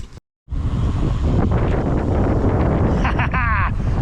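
Loud buffeting wind rumbles into a microphone outdoors before a bike ride, continuous and close after a brief silent start, with a voice speaking faintly underneath.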